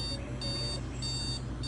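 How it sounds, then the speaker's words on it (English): A Sharp alarm clock rings in a bedroom with a steady pulsing beep in rhythmic bursts, fairly loud and close, over a constant background hum. "I turn the sharp alarm clock off"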